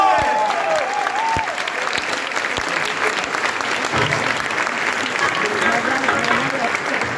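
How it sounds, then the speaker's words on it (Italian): An audience claps and cheers continuously at a concert at Revolver Club in San Donà di Piave, with dense, loud, sustained applause filling the room. "Un applauso!"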